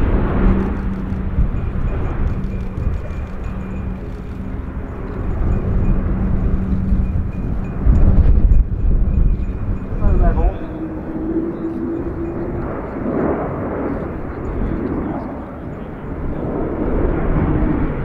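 A Spanish Air Force Airbus A400M military transport performs a flying display at RIAT 2019, giving off a loud, steady propeller-turbine roar that swells briefly mid-pass, with commentary faintly beneath.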